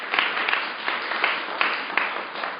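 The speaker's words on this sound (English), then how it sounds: "A round of applause." An audience at a training session breaks into steady applause, dense clapping that holds at even loudness throughout, heard fairly close with no voices over it.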